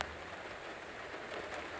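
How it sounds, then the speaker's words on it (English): Heavy rain pours outdoors in a steady, even hiss of drops hitting surfaces, continuous and fairly faint, with no voices. "Pouring with rain, but it's pouring with rain"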